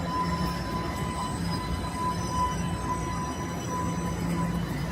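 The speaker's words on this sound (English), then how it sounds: "trying to talk over a noisy subway train rolling in." A Toronto subway train rolls into Rosedale Station at night, a steady loud rumble of wheels on rails with a faint high squeal and a humming tone throughout, no voices over it.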